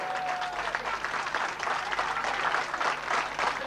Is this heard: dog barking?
no